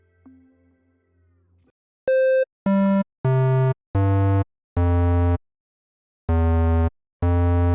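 A tech house bass from the Serum synth runs through an MG24 filter while the cutoff is swept, giving a series of loud, buzzy separated notes whose tone shifts between hits, after a faint low hum at the start.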